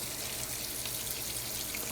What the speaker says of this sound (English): But for right now, we're just going to do the faucet.